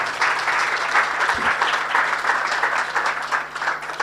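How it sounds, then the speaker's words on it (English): A Muslim community audience at an event on dementia, Alzheimer's and Parkinson's gives a warm round of applause. Full, steady clapping runs for the whole four seconds over a low constant hum. "very warm round of applause."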